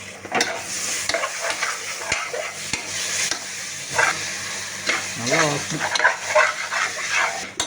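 Biryani masala sautéing in a pan with coriander and mint leaves added, a steady close sizzle with a spoon stirring and scraping throughout, loud and continuous.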